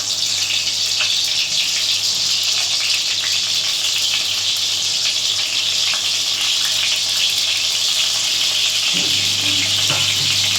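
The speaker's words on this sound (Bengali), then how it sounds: "তেলটা গরম হয়ে গেছে, আমি পটলগুলো আস্তে আস্তে ছেড়ে দিলাম।" Pieces of pointed gourd (potol) slide into hot oil in a home kitchen, setting off a loud, continuous sizzle and crackle of frying that holds steady throughout without any talk.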